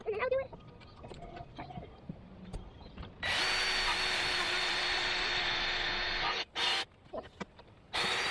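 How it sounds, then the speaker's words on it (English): A power drill bores a hole for a new door in an animal area, a loud steady whine running for about three seconds then cutting out briefly and restarting, with quieter handling noises and shuffling before it starts. "let's get this other hole drilled."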